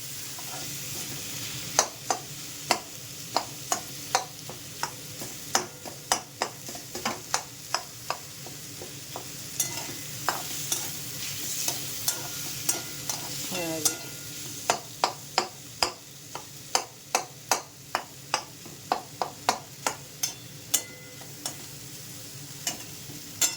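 Cooked raw banana pieces get mashed in a pan, heard as a steady series of sharp taps and scrapes against the metal over a low sizzle, close and without speech.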